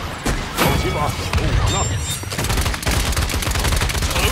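Cannon fire in the online shooter Paladins comes as a rapid burst of loud, booming blasts and thuds that overlap into a continuous barrage, with someone talking excitedly over the action.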